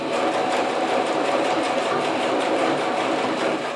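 Sewing machine running steadily for a few seconds while stitching a bias strip on a 3D kitten vaccination-card cover, a continuous close whir with no talking.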